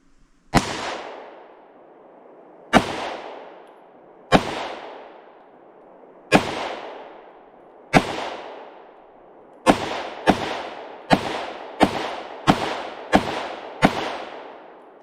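FK BRNO pistol fires thirteen sharp, loud shots outdoors, the first few spaced about two seconds apart, then a quick burst of rapid shots, each with a short echoing tail.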